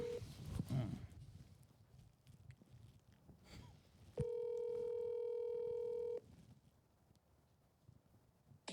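A phone call placed on a handset: a steady two-tone ringback or dial tone sounds loudly for about two seconds, with faint room noise and scattered background sounds before and after.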